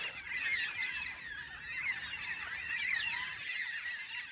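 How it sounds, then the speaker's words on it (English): A flock of birds calls noisily as they take off from a bare tree, a dense, continuous chorus of overlapping honking cries at moderate distance. "they do like this bald tree as they all fly off"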